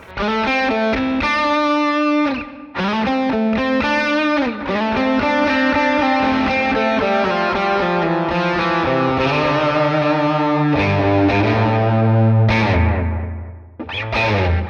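Distorted electric guitar plays a melodic line with echoing repeats trailing each note, loud and up front, ending on low sustained notes.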